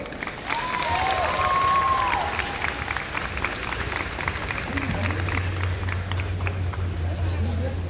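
An audience at a video game convention panel gives a sustained round of applause, dense clapping and some cheering filling a large hall, with voices mixed in the crowd noise throughout.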